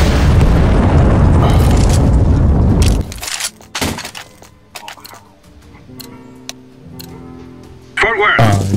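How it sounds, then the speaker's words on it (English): A loud, roaring explosion in a video game, a sustained booming blast that cuts off abruptly, followed by scattered crackling debris and a softer thump. "It is going to explode"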